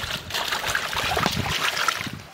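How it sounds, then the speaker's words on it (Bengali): Water runs and splashes steadily as onion leaves are washed by hand in a kitchen, a continuous close trickle with small splashes and handling sounds throughout. "এবার ধুয়ে দিয়ে কেটে নেব।"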